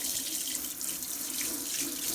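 A steady rush of water from a hose washes down a fan being cleaned, an even, unbroken hiss and splash through the whole stretch.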